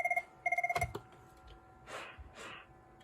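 A desk phone rings from an intercom call on line 5, with short bursts of electronic warbling trills, a brief pause between them, then faint handling noises and quiet rustle.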